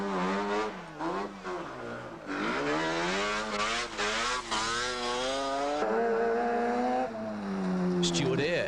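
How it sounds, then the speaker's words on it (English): A Mazda RX-7 rally car on a special stage of a 1985 rally, its rotary engine revving hard and close. The revs rise and fall repeatedly through gear changes and a tricky corner, with faint talk underneath. "Mike Montgomery pushed his Mazda RX-7 along at a good pace, but found one corner particularly tricky in Special Stage 7"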